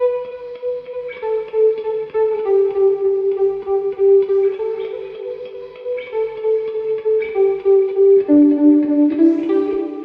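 A melodic line blurs into a lush, sustained wash of reverb plugin with warp at 89%, notes smearing together into a soft pad-like cloud, steady and fairly loud throughout.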